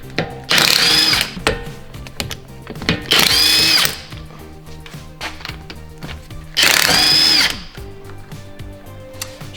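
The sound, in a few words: power tool removing wheel lug nuts on Honda Civic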